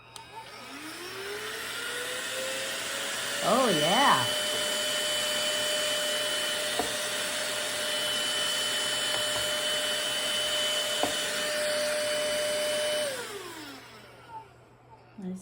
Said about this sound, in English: So we're going to try this little desk vacuum of my husband's.